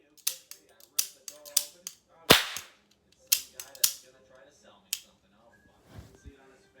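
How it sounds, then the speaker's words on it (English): A toy cap gun loaded with small orange caps fires a string of sharp, loud snapping cracks at an uneven pace, some in quick pairs and others spaced apart, with a voice talking between shots. "I got the cap gun thing"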